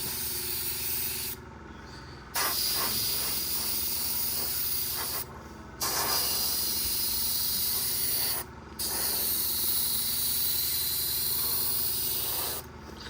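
An airbrush sprays paint onto an Airfix 1/72 Vulcan model kit, giving a steady, close hiss in long bursts that cut off briefly between passes.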